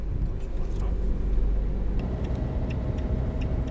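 A car accelerating on a track, its engine a steady low rumble close by that builds slightly, with people talking in French over it.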